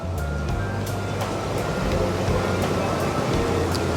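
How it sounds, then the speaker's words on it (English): Water churns steadily in a huge hot tub at a resort, a continuous broad bubbling rush with low rumble that stays even and close throughout. "And this is a huge hot tub."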